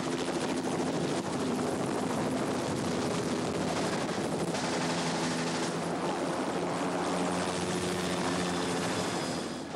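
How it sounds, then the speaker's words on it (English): A helicopter in a film scene, set in 1917, clatters loudly and continuously at close range, its rotor chop and engine drone filling the whole stretch with no voices. "For the big scene I saw filmed, the chopper's back in time, with Biggles coming to the rescue"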